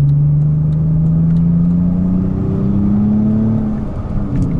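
A manual-transmission car pulls out and accelerates onto a main road, its engine note climbing steadily from inside the cabin, loud and close, with no talking.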